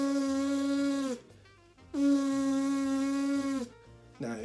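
Sustained trumpet lip buzzes from a brass student, two steady buzzing tones of about a second and a half each with a short gap between them, and a third beginning at the end.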